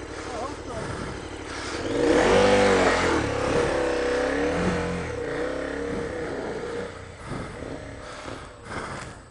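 A KTM rally motorcycle's engine revs up loudly and then settles into a rough, fluctuating idle with rising and falling pitch, with people talking nearby on an off-road trail.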